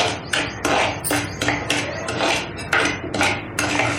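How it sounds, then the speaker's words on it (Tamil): Semolina (rava) roasted in ghee in a pan for rava kesari, heard as a spatula scraping and clinking against the pan in repeated, close, rhythmic strokes with no talking. "அந்த நெய்யோட சேர்த்து நம்ம ரவையை வறுத்துக்கலாம்"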